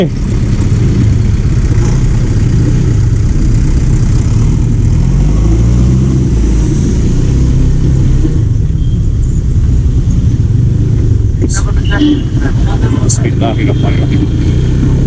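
Motorcycle riding along a highway at night toward Kargil, a steady loud engine rumble with heavy wind roar throughout, close to the microphone, with a few brief clicks near the end.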